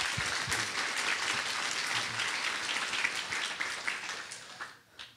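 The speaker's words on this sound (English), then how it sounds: "I'd like to acknowledge them again and give them a round of applause." An audience bursts into sustained applause at a talk on macular degeneration, a dense, even wash of clapping that fades out toward the end.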